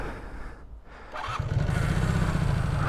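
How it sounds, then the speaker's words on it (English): A Honda CB250 Super Dream motorcycle cranks briefly, then its engine catches and settles into a steady, loud idle, close by with no talking. "I've turned the bike off because what I want to do is see how it starts again."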